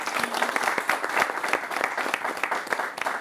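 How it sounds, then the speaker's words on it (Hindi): A studio audience claps for a Hindi television debate programme on the Mediation Bill, with dense, fairly close applause and distinct individual claps sustained throughout. "ताली बजनी चाहिए।"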